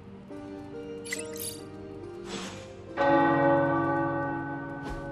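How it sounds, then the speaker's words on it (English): Several tower bells in a video game ring out one after another, with a louder, fuller bell striking midway and its resonant tones lingering and slowly decaying. "The tower bells are ringing."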